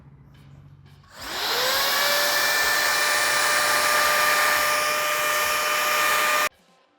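A 5-in-1 hair styler blow-dries wet hair, starting after a second with a rising whine that settles into a loud, steady airflow roar with a high tonal hum, then cuts off abruptly near the end.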